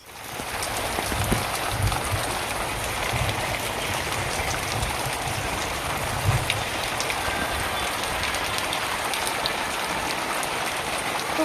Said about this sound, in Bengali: বিকেলবেলা হঠাৎ মাত্র এত প্রচণ্ড বর্ষা